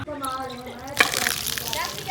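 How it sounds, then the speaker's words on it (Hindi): Tap water in a mud-plastered kitchen gushes in irregular spurts, with air trapped in the pipe. A sharp burst at one second turns into a steady, close hiss of running water, and faint speech can be heard underneath. "पानी आ गया है, पानी आके चला क्यों जाता है यार?"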